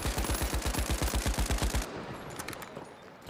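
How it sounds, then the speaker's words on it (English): Rapid automatic gunfire from the video game The Finals rattles off in a steady, evenly spaced burst of shots for nearly two seconds, then cuts out, leaving a faint ringing, echoing tail. "And next thing you know, I was getting shot at."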